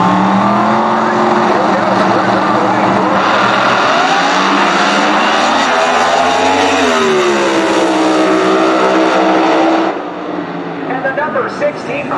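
Pro Mod drag racing cars at a US Nationals event roar down the strip with a loud, sustained engine howl that rises in pitch and then cuts off, heard alongside excited commentary.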